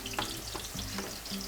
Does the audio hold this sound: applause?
no